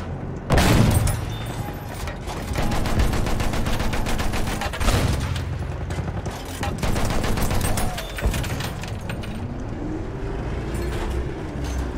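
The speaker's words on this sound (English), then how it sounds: "Enemy machine gun over there!" Battlefield 1 battle on the Amiens map: sustained rapid machine gun fire with heavy booms and rumbling vehicle noise, steady and loud throughout.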